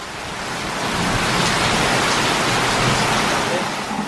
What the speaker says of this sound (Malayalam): നല്ല അതിശക്തമായിട്ടുള്ള മഴയാണ്